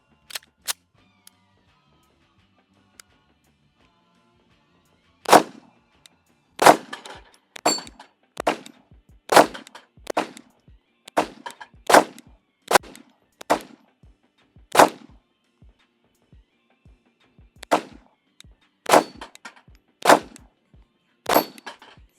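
Cheap double-stack 1911 pistol fired through two magazines: after a few faint ticks, a long string of sharp, loud single shots at uneven intervals, with brief pauses between groups.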